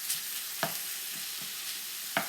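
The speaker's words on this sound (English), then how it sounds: "you have to let the pan come back to a sizzle. Always have the pan sizzling." Ground pork sizzles steadily in a hot pan while a utensil stirs and breaks it up, a constant close frying hiss punctuated by a few brief scraping strokes, with no voices.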